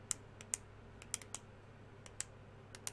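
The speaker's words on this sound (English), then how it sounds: "You can hear me clicking this pen." A pen clicking during a four-player Magic: The Gathering Commander game, sharp faint clicks at an uneven pace over a quiet low hum.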